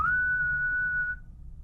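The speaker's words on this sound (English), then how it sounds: "Can you whistle like this?" A person whistles a single sustained, steady clear note for about a second, close and alone, then stops.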